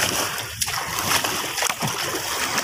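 Wooden paddles slapping the water during a net-fishing outing, producing several sharp, close splashes in an irregular rhythm with sloshing water between strikes.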